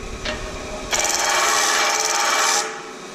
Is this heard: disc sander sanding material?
yes